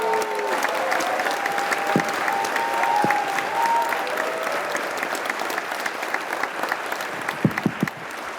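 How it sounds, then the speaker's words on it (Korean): Audience applause at a year-end event welcoming a foundation chairman to the stage, a steady, full crowd clapping that holds throughout with faint tonal background sound and a few louder claps near the end. "여러분 큰 박수로 맞아주시기 바랍니다."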